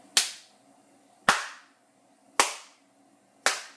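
A man in a TV show claps his hands slowly, four single sharp claps spaced about a second apart, each crisp and clear against near silence.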